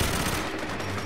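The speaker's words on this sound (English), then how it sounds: "you're just gonna be shooting crazily non-stop." Continuous automatic gunfire in GoldenEye 007 Reloaded, a loud, dense and unbroken stream of shots during a firefight, with no talking.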